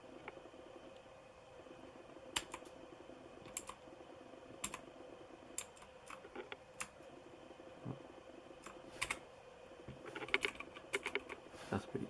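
A Motospeed CK62 mechanical keyboard is typed on in irregular bursts of crisp, close clicks and clacks, some keystrokes sharper and louder, with quiet gaps between runs and no talking.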